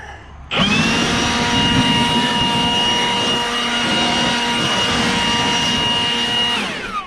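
Air blower forcing seeds and debris out of the nooks of a hay mower during second-cut hay work, a loud steady whooshing roar that starts abruptly, holds without a break for about six seconds and then tapers off, with no talk.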